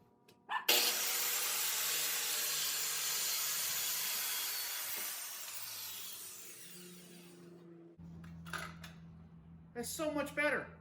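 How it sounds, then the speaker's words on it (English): A corded saw cuts through wood for a DIY Christmas tree box in one long, loud, rasping pass that fades as the cut ends, followed by a person talking. "So I get through and then I switch over to the corded saw."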